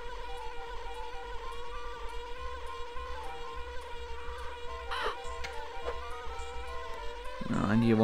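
Buzzing of the bee form in the Banjo-Kazooie video game: a steady, droning insect hum running the whole time alongside game music, swelling louder near the end.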